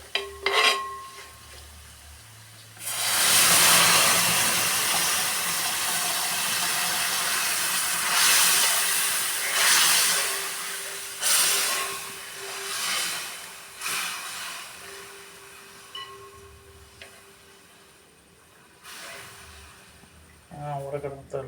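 Tamarind liquid for fish pickle bubbling in a pan, a steady broadband boil with hissing steam and occasional clinks of a utensil stirring, fairly close and continuous after a quiet start.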